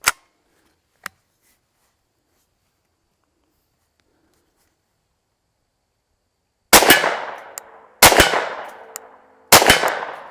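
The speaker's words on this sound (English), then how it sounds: "I'll shoot the left-hand side of that steel plate and see what kind of craters it makes compared to the 327 Federal Magnum" Three loud, sharp gunshots from a Federal Hydra-Shot round fired at a steel plate outdoors, each a crack with a ringing metallic clang and decaying tail, spaced about a second apart after a quiet stretch with faint clicks.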